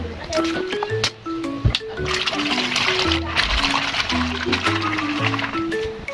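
Water splashes and trickles while plates, glasses and spoons are washed by hand with a sponge, a steady wet clatter running throughout with a person talking over it.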